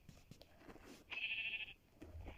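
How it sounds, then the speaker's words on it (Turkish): A sheep in a video game lets out a single bleat, fairly faint and lasting about half a second, amid light game clicks and low background noise with no talk. "son öldüreceğimiz koyun olsun"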